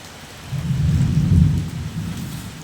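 A deep rumble of thunder swells and fades over a steady hiss of rain, fairly loud and close with no voices.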